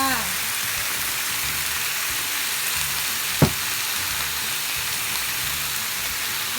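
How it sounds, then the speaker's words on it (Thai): Fried tofu being stir-fried with oyster sauce and seasonings in a pan, giving a steady, close sizzle with one brief clatter from the spatula midway. "ก็ผัดให้เข้ากันค่ะ คนให้เข้ากันค่ะ"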